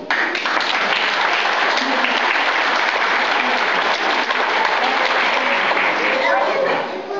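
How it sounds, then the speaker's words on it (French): Sustained applause from the audience at a mayor's New Year address in January, a thick, continuous roar of clapping that holds at an even level for several seconds. "Eux aussi, je pense, nous pourrons les applaudir."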